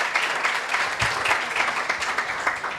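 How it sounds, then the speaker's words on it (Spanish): An audience at a 2018 vegan festival talk gives a brisk round of applause, a dense even clatter of many hands that carries on for a few seconds. "Un fuertísimo aplauso."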